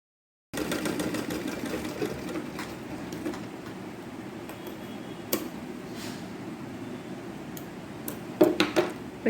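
A sewing machine stitches a lace blouse sleeve with a quiet, steady mechanical hum and rapid ticking, plus a few sharper clicks near the end.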